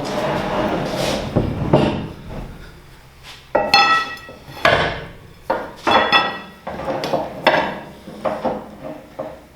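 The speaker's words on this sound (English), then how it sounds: "Slide the next board in." Wooden floor boards being slid and knocked into place on a red trailer, a series of sharp hollow wooden clacks and scraping thuds at irregular intervals, close by, with no talk.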